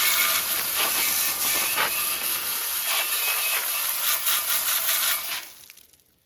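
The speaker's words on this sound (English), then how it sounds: "Water hose is washing it off." A hose sprays hard against a rusty metal rear body crossmember of a 1928 Model A coupe, with a loud, steady hiss and splatter, pulsing slightly before cutting off near the end.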